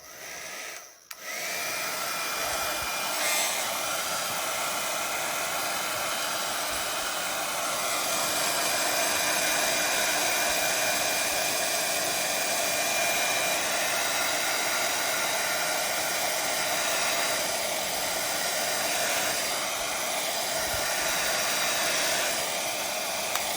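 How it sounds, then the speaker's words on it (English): A heat gun gives a steady, loud blowing roar with a hissy, airy character, running almost continuously after a brief dip near the start, with no talking. "I think I'm going to hit it with the heat gun just a little bit"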